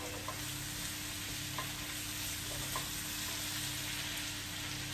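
Onions and ginger fry in a pan as a spice-paste base for cauliflower korma, giving a steady, quiet sizzle with faint stirring clicks and no talk.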